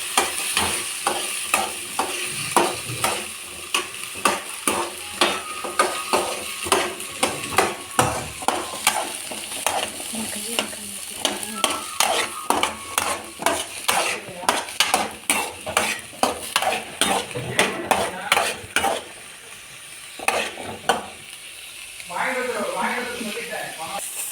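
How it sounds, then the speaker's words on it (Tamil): Ginger, garlic and onion fry in hot oil for a mutton curry while a spoon scrapes and stirs the pan in quick rhythmic strokes over a constant sizzle. Near the end the stirring stops and the sizzle carries on briefly alone. "இப்போ வந்து இஞ்சி பூண்டு வெங்காயத்தை இப்போ எண்ணெய் சூடாகிறப்ப இதிலே போட்டுடணும்"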